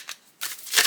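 A Fountain Tarot card deck being shuffled up close in two or three quick riffling bursts, crisp and papery, with no voices.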